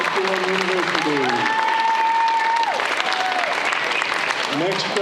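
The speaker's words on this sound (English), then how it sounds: "one more round of applause for Jay Ricketts and the Tusculum University" A crowd claps for an athlete at a high school national signing day event, with steady applause throughout while an announcer's voice speaks over it.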